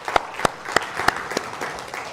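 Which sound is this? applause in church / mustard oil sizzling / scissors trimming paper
applause in church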